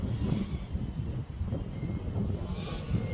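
Strong wind buffets outdoors during a tri-blade drone test flight, a rumbling, gusting roar close to the microphone that swells and eases without pause.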